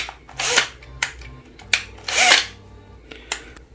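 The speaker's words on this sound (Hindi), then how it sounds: "अगर आपको ड्रिल करना है तो ऐसे ड्रिल कर सकते हैं" A Bosch GSB 120-LI cordless drill whirs in five short bursts of varying length, loud and close, with quieter clicks and hum between them.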